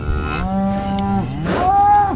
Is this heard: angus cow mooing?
yes